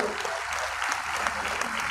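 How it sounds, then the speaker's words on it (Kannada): Sustained applause from an audience at a Sharanavaratri Dasara Dharma Sammelan religious gathering, a dense, steady wash of many hands clapping without a break. "ಚಪ್ಪಾಳೆ"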